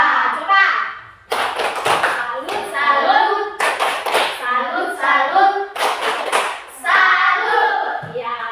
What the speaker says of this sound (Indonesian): Kita tepuk jempol dulu untuk siapa?